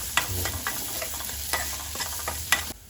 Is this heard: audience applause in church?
no